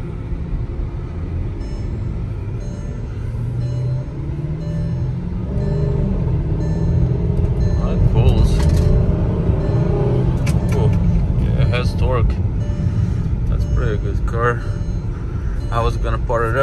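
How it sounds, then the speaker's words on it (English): A 2006 Porsche Cayenne Turbo S with accident damage and 113,000 miles drives along a small street, its engine a steady low rumble that swells partway through, with muffled voices faintly in the background. "driving on this small street"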